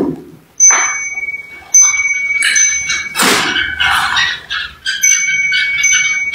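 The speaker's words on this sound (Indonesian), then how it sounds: "Gua masuk sini malah ada suara lonceng" Small bell ringing at a night visit to a reputedly haunted village, bright tinkling tones recurring in several bursts over a dark, quiet background, with faint murmurs between them.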